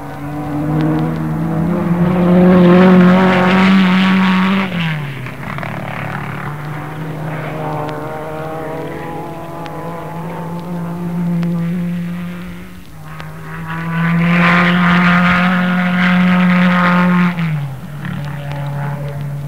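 A loud Coventry Climax Formula One race car engine with a longer tailpipe roars past, rising and falling in pitch as it revs, with two strong passes and a steady drone between them.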